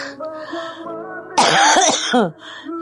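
A single harsh cough or throat-clear bursts out briefly, close and loud, with quieter voiced sounds around it.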